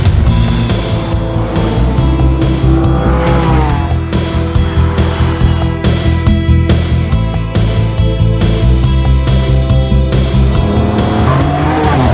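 Lamborghini sports cars race around a track, their engines screaming loud and continuous as they rise and fall through gear changes, with brief tire squeals mixed in under a constant roar.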